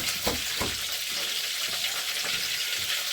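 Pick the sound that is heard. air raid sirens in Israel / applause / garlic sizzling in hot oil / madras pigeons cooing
garlic sizzling in hot oil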